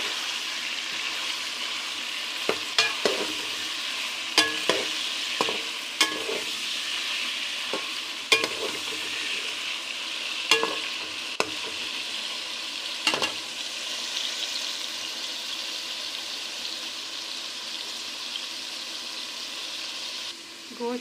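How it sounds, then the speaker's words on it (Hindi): Chicken fries in a karahi with salt and crackles under a steady sizzle. A spoon scrapes and knocks against the pan in irregular strokes, close by, and no one speaks. "और इसको अच्छे से हिला लेंगे।"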